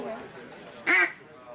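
A single short, nasal quack from a duck call imitating a hen duck, loud and close, standing out briefly over soft background noise.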